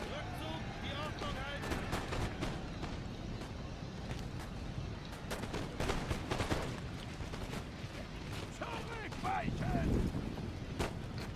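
Napoleon Total War online battle with musket fire crackling in dense, scattered volleys and rolling, distant-sounding bursts, under continual talk from a player.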